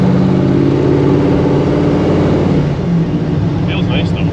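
A 1955 Chevy Nomad Gasser engine drones loud and steady while driven with a stick shift, its low rumble constant throughout, with a faint high tone late on.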